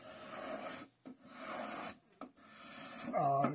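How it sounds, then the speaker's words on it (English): A spokeshave planes wood smooth on an 18th-century-style Windsor chair part, giving three steady rasping strokes that sound close and moderately loud, with brief pauses between them and a slight tonal scrape at the end. "All I'm trying to do is get a smooth surface, and I do use two different spoke shaves"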